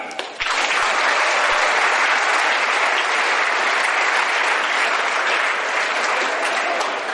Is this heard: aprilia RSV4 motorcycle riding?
no